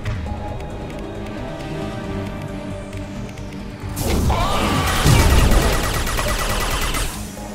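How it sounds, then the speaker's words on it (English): An explosion in Mass Effect 2 bursts loudly midway through, heavy and booming with crashing debris, after a stretch of quieter combat ambience and a descending whine. The rumble lingers for several seconds. "Love that explosion."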